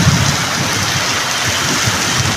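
Heavy, continuous rain falling steadily during a downpour that has lasted about half an hour, a dense, loud, unbroken hiss with no voices.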